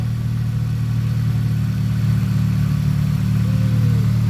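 A Toyota 2ZZ four-cylinder engine with a newly installed oil catch can idles steadily and smoothly, a close, even low hum with no voices.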